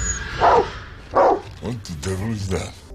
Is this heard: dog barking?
yes